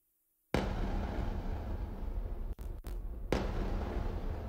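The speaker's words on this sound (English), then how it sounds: "It has these really nice explosion sound effects. So this is the noised long tube is what it's called." An explosion sound effect called a noised long tube, heard soloed: a sharp transient smack followed by a long, dense, noisy decay, with a second hit partway through.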